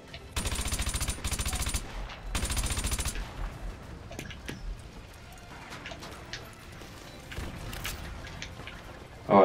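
Gunfire from a rifle in the Call of Duty: Modern Warfare 2 Campaign Remastered: two loud rapid bursts close together, then scattered quieter shots and impacts trailing off.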